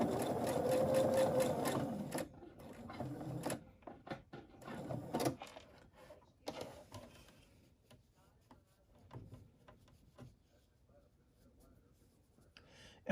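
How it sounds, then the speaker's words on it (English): A sewing machine stitches the outer edge of a fabric cap brim, running in a steady close whir for about two seconds, then stopping and starting in shorter bursts with handling clicks and faint talk. "And we're just stitching this outer edge of our brim."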